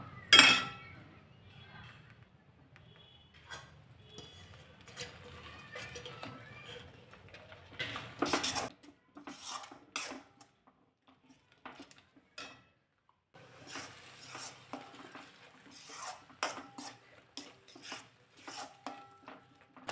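Onion and tomato being stirred and sautéed in a pan for a spicy colocasia-leaf curry, with repeated scraping, clinks of a spoon against the pan and soft frying sizzle, close and moderately loud throughout.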